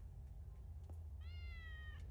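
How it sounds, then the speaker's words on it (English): A cat in the video game Frightence gives a single clear, drawn-out meow against a quiet, steady low hum, with no one talking. "Look at the cat, bro."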